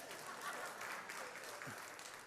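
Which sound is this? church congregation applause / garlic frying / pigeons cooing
church congregation applause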